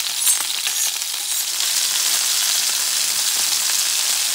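A thick, lean bison steak sears on a cast iron pan with a steady, close hiss and crackle, the sizzle holding loud and even throughout.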